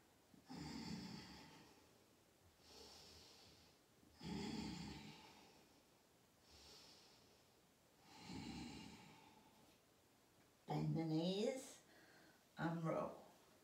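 Slow, audible breaths during a yoga sequence: five drawn-out inhales and exhales spaced a couple of seconds apart, close and soft, followed by a voice giving instructions.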